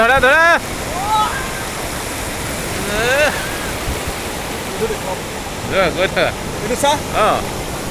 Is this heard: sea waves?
yes